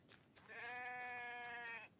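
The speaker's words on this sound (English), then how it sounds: "Nope, there's a sheep." A single drawn-out sheep bleat, clear and nasal, over a faint steady hum in the background.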